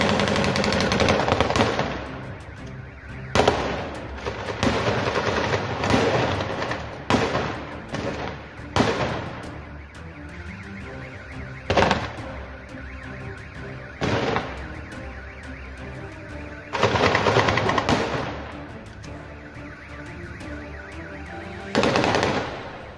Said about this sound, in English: There are unconfirmed reports of gunfire on the streets of Novofyodorovka in Crimea.